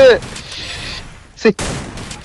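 Gunfire crackles in a battle royale video game, with a burst of shots at the start and a sharp, loud report midway. An excited voice talks over the shooting.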